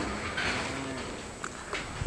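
Hereford light feeder steers at a cattle sale, a low drawn-out moo rising over a constant crowded saleyard murmur, followed by a few fainter knocks and shuffles.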